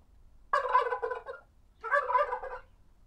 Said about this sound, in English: That is a turkey.